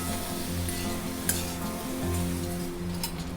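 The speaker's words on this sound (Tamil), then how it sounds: "இப்போ கத்திரிக்காயில் உப்பு மஞ்சள் பொடியை சேர்த்துருவோம். ஓப்பன்லேயே கத்திரிக்காய் வதங்கட்டும்." Eggplant pieces sautéing uncovered in an open pan with salt and turmeric powder, a continuous loud sizzle with a single brief utensil clink partway through.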